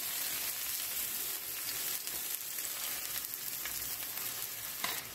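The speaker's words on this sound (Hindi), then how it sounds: "तो अब हम इसे फ्राई करेंगे।" Paratha frying in a pan over medium heat makes a continuous, even sizzle and crackle that runs unbroken, with no speech.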